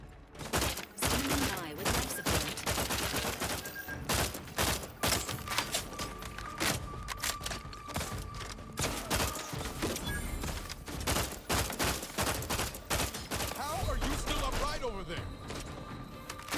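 Rapid assault rifle bursts in the Outer Worlds 2 video game ring out loud and dense, with repeated sharp shots and impacts over game effects.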